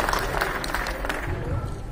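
Loud applause from an audience at an academy program, dense clapping sustained for a moment and heard fairly close.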